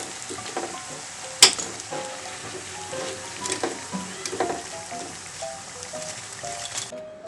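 Potato bondas frying in hot oil give a steady, soft crackling sizzle with scattered pops and one sharp clack near the start, close and moderately loud, with no talking.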